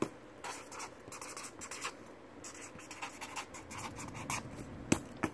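Pen or marker writing on a surface, a steady run of soft scratchy strokes close by with short pauses, a small knock near the end, no talk.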